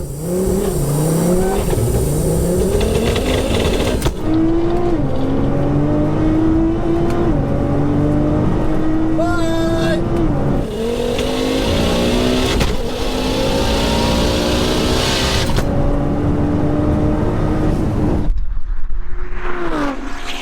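A Stage 4 Nissan R35 GTR and a four-wheel-drive Ford Focus RS launch in a drag race, engines screaming up through rising revs with gear shifts punctuating the run, loud and sustained, tapering off near the end.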